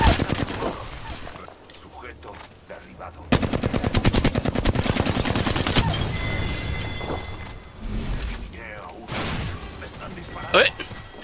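Rapid automatic gunfire in the video game Puni Legends, dense bursts of machine-gun fire with a long sustained stretch, mixed with game effects and voice lines throughout.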